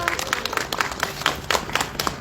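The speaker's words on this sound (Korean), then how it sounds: "우리 모두 한번 가정의 행복을 위해서 박수 한번 칠까요?" A crowd claps together at an outdoor candlelight rally in a town square, loud and close, with a rhythmic, roughly unison beat of hands sounding alone.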